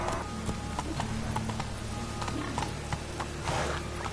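Roach the horse trots along in The Witcher 3, a steady clip-clop of hooves under a constant low ambient bed, moderately loud and unbroken by speech.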